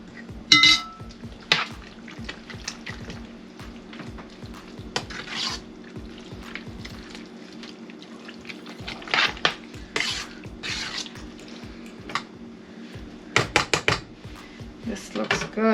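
Cheese is stirred into mac and cheese in a pot, with a spoon scraping and clinking against the sides in irregular bursts over a low steady hum, close by, with occasional louder knocks.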